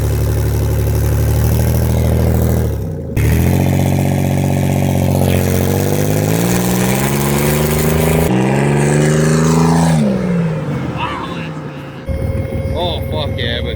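Turbocharged Pontiac Transport minivan with a V6 revs loudly, its pitch climbing and falling through several sweeps with a brief drop near three seconds, while voices talk over the engine.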